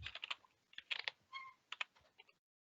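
A short burst of typing on a computer keyboard, with quick, close key taps in small clusters, then silence.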